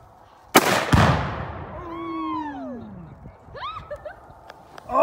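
Gunshots at an outdoor shooting range: two sharp, loud reports close together near the start, their echoes fading, followed by scattered quieter pops and sounds from the people nearby.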